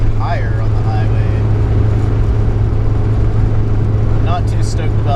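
A 1995 Mazda Miata, rear-wheel drive and on short gearing, is driven with a loud, steady engine and road drone inside the cabin, while a voice talks over it.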